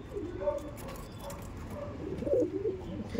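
Pigeons coo in low, repeated throaty calls at close range over a steady background hum, with faint rustling between the calls.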